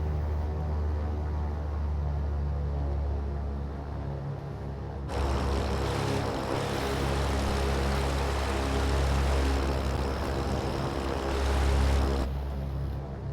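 A propeller airplane engine in a flight simulator game hums steadily at first, then jumps to a louder, rougher roar partway through as power comes up, holding high before easing back.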